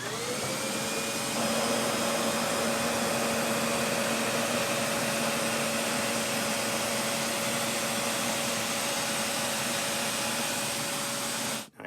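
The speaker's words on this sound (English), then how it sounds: "now I'll go over it with my vacuum cleaner and clean up what might be hanging out in the air" A vacuum cleaner runs close and loud over model railway track ballast, spinning up at the start into a steady high whine with a rushing airflow roar, then cutting off abruptly at the end.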